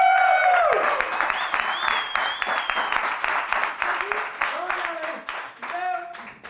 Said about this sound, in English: Let's cheer it up for them.